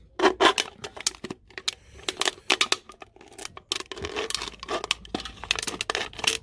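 Metal tin can being cut open at the bottom with a knife or scissors, giving a run of sharp, irregular snipping and tearing crunches with short pauses, close and fairly loud, no talking.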